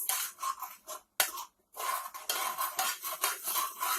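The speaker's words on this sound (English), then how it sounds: "we're going to stir that for about 2 minutes until it dissolves" A spoon scraping and clinking around a bowl while stirring jello shot mixture, rhythmic close rasping strokes with a brief pause partway, no voices.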